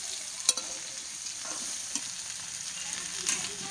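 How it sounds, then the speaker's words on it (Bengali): Spiced curry with coriander powder sizzles in a pan as a spoon stirs it gently, giving a steady hiss marked by a few light scrapes and taps, with no voices. "এবার একটুখানি হালকা করে নেড়ে"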